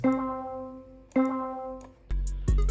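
A bright 80s-style synth pluck one-shot sample plays three separate notes, each sharp attack ringing and decaying, followed by a couple of quicker plucked hits at the end.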